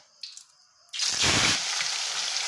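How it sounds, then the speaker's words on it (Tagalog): A burst of loud, steady sizzling and crackling starts suddenly after a brief quiet moment as talakitok fish drops into hot oil, continuing strongly to the end. "Prito tayo ng isda."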